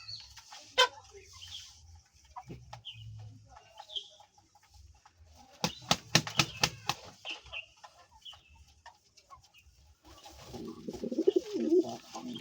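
Pigeons, male and female, coo softly close by, with a quick burst of wing flapping midway and some clucking and rustling toward the end.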